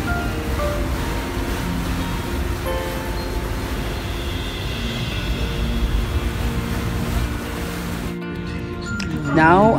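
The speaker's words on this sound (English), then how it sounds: "Now I'm here again inside the train" Steady low rumble and rattle of a moving Trenitalia train carriage in Italy, continuous and fairly loud, with a brief louder shift near the end.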